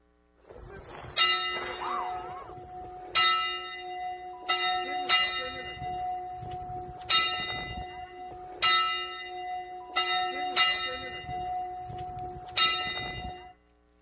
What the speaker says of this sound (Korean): 아버님이 치셨던 그 종 소리 한번 친 걸 보내봤어요